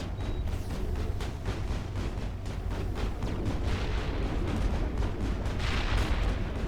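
Grenade explosions in the Mass Effect video game roll together into a dense, continuous booming rumble with chaotic combat noise, loud and unbroken with no talking.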